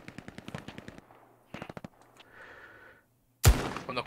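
Bursts of machine gun fire in the World War II shooter Hell Let Loose, rapid rhythmic volleys at moderate distance, a second burst after a pause, then a loud close shot near the end.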